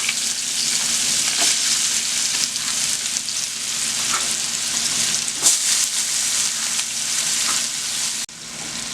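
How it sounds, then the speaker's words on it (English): Onions fry in oil left over from browning floured pork chops, a loud steady sizzle with occasional stirring scrapes throughout, ending in a sudden drop in level, with no one speaking. "I took some of the oil out, and I'm going to put my onions in there."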